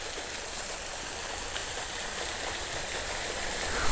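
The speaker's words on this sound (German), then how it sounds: "Da hat man wirklich einen künstlichen Wasserfall gemacht." An artificial waterfall in a lush garden on Bang Krachao near Bangkok splashes down steadily, a constant close rush of falling water with no talking over it.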